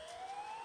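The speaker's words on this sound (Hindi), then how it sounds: "बट एम्बुलेंस इधर कैसे?" Ambulance siren in a mobile train video game, a steady rising electronic wail that stays alone at moderate level through the short moment, with no talk over it.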